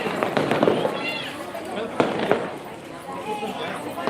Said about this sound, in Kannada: ಪಟಾಕಿ ಎಲ್ಲ ಹೊಡಿತಾ ಇದ್ದಾರೆ